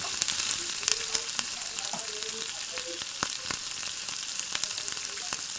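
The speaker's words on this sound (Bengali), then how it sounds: "5 মিনিট ধরে ভালোভাবে নাড়িয়ে চাড়িয়ে নিয়ে হালকা লাল লাল করে এই আলুগুলো ভেজে নিতে হবে।" Boiled potatoes fry in a pan as they are stirred, a close crackling sizzle broken by sharp clicks and scrapes from the spatula, with no voices.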